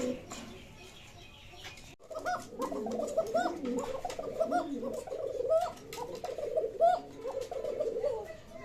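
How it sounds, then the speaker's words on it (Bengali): A Kokha Bashiraj pigeon coos repeatedly in soft, rolling throaty phrases close by, with faint wing rustles and other pigeons around. "বাসিরাজ একবারে চিকন আর খুব সুন্দর ডাকতেছে।"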